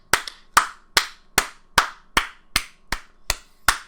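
Ten sharp hand claps from a single person, evenly spaced about every 0.4 seconds, close and loud against a silent background, during an online video call.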